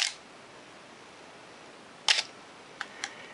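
A Canon AE-1 film camera fires its shutter at a two-second speed: a crisp click opens it, then after about a second a smaller pair of mechanical clicks close it, close up in a quiet room.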